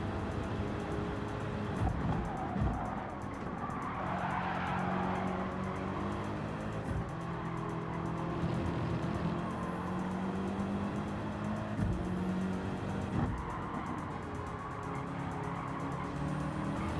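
A racing car engine in the video game Gran Turismo 7 drones steadily through gear changes, with tire squeal and skidding on the track and the occasional shift.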